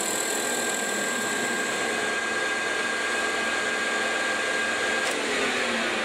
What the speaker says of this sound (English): Quickly facing your part off in a lathe manually can be very fast if you employ what's called wiper technology.